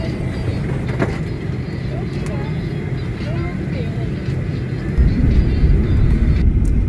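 A steady low engine roar fills a domestic airliner cabin from a seat beside the engine, constant and droning, with faint background chatter mixed in.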